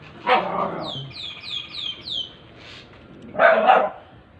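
Dogs barking outside: two or three sharp barks spaced a few seconds apart, mid-distance, with chirping birds in the background.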